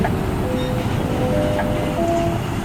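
The Chattogram Express Snigdha passenger train runs along the rails in a steady, continuous low rumble heard from inside the car, with faint tonal squeals from the wheels drifting in and out.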